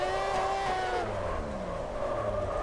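A drift car's engine in a racing game at Tsukuba, clutch kicked at close to 100 mph: a steady high-revving engine whine that falls and rises in pitch, close and continuous, with no talking.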